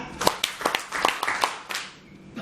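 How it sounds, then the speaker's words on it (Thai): An audience claps in unison five times at a Thai talk, a sequence of sharp, evenly spaced hand claps close by, with a faint murmur of voices between them. "ปรบมือห้าครั้ง"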